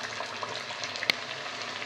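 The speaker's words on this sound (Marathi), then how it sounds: "आपण आता थापलेला जो वडा आहे तो हलक्या हाताने आपण सोडून घेऊया।" A vada fries in hot oil in a kadai over a medium flame, with a soft, steady sizzle and one sharp click partway through.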